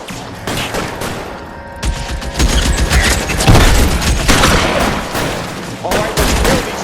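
Gunfire in the 1940s-era detective video game LA Noire, with dense, rapid bursts of shots and booming impacts that overlap in a loud, sustained firefight, and mechanical clicks early on.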